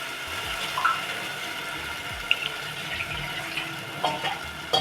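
Water pours into a dry fruit milkshake mixture as a continuous, moderately loud splashing trickle with a few small bursts, heard alone without talk.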